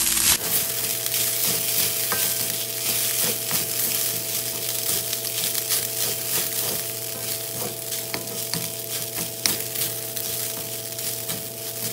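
A mixture frying in a pan with salt, black pepper and a little sugar, stirred continuously, giving a steady loud sizzle with scraping and clinks of the spoon close up.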